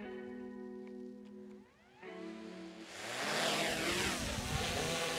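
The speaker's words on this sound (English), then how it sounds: "First, put the drone up into the air." A DJI Mavic 3 drone lifts off and hovers, its steady motor hum building from a thin whine into a loud, dense propeller roar about halfway through.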